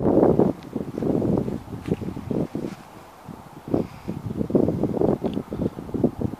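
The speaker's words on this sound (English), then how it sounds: "I think the second round of wind is here. I just missed a nice gust that blew all the leaves up and everything." Gusting wind blows outdoors near a barn, buffeting the microphone in irregular rumbling bursts with faint rustling of leaves, loud and close with uneven swells and a brief lull.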